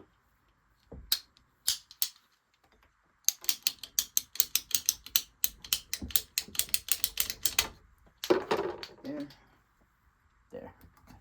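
Water pipe cut by hand during a water softener installation, quick rapid ratcheting clicks of a pipe cutter in close bursts, with short gaps and a moment of louder handling near the end.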